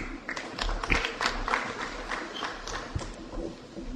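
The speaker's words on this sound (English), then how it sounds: "Please give a big round of applause to her." An audience at a felicitation program at GMC Aurangabad applauds an honoured doctor, with scattered, uneven clapping from a modest crowd that stays moderately quiet and somewhat distant.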